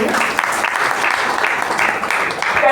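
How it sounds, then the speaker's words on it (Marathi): An audience applauds at a devotional discourse gathering in Pandharpur, with dense, continuous clapping from many people filling the room at close range. "एका जोरदार टाळ्या या ठिकाणी"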